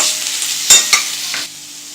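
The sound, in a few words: onions sautéing in a pan with ginger garlic paste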